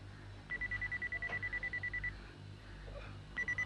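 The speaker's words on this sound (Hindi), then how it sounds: "मिस्टर रोबो, ये बीप बीप क्या है?" Electronic beeps from a comedy-show robot waiting to take an order: a rapid, steady train of identical short high tones repeating for over a second, then a pause and a brief second burst, clear over a low background hum.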